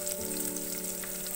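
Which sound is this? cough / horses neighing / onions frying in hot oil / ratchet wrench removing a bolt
onions frying in hot oil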